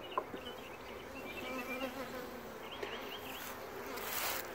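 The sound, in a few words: honey bees buzzing at an open beehive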